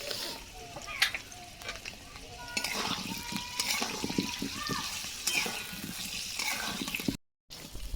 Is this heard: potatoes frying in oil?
yes